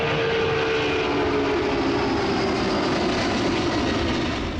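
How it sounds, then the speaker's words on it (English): Jet airliner engines of Eastern 401 at takeoff power as the giant plane hurtles down the runway, a loud, steady, broadband roar sustained throughout with no voices. "The engines were set to take off power, and within moments, the jet was hurtling down the runway"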